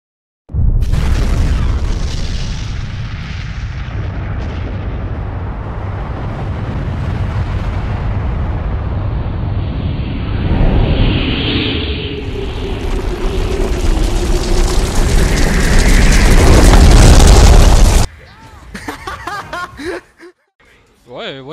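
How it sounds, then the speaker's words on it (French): A video game explosion lands as a heavy booming blast and is followed by a long rumbling roar, while players laugh and talk over it before the noise cuts off. "Oh, explosion"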